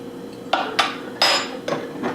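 A spoon clinks against a mug while miso paste is stirred into coffee, giving five sharp, bright taps spaced unevenly over about two seconds, close and clear with no talking.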